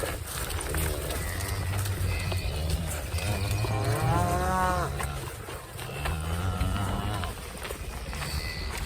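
Cattle in a field moo loudly and close by a walker with dogs near a gate, several long drawn-out calls rising and falling over a steady outdoor rumble, with someone talking between them.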